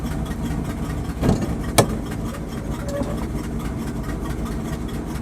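A 1979 Dodge 100 truck engine idles steadily with a low, constant rumble after being dropped from high idle on a cold start, with one or two brief louder knocks partway through.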